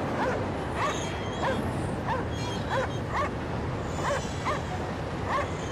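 A dog in the Cryostasis video game barks and whimpers in short, repeated yips at a steady rhythm over a constant hissing background, fairly close and clear, with no talking.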